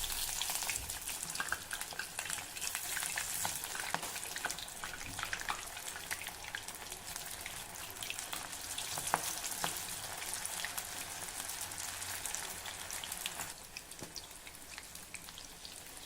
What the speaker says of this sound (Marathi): आपल्याला ही भजी अशी बोटामध्ये घट्ट दाबून मग तेलात सोडायची आहे.